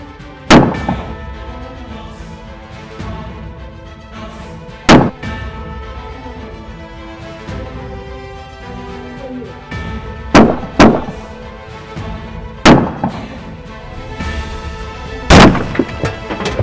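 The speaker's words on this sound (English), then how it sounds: "Roger's got a high-power rifle shooting at me." High-power rifle fired at a deputy pinned behind his patrol car during a roadside stop: about seven loud, sharp cracks spaced irregularly, some in quick pairs, over a sustained tonal music bed.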